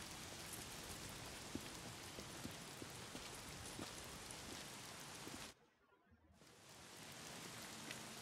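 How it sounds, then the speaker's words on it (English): Steady, dense rain pours down with a constant hiss and scattered drops, briefly cutting to near silence before returning, in the video game Days Gone. "Why is it always raining?"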